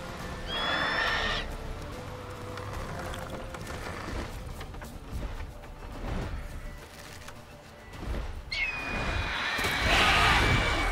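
A horse neighs in The Witcher 3, with a loud whinny near the start and a second, brighter one near the end over rumbling game ambience and low background noise.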